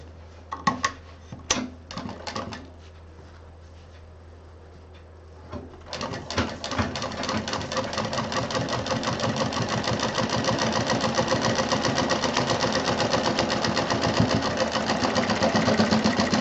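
A sewing machine stitches a zip onto a simple sling bag, starting with a few short bursts before running steadily and loudly for the remaining stretch, its fast rhythmic needle chatter close and continuous.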